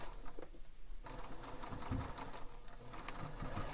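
A sewing machine top stitches fabric for a bowler bag, a quiet, fairly steady whir with a rapid clicking texture, briefly dipping before carrying on to the end.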